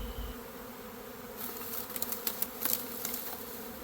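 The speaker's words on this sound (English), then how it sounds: "I'm gonna try to work these bees in here just as soon as they calm down a little bit." A honey bee swarm buzzes as a steady drone throughout, with brief louder surges as bees fly close past; no one speaks.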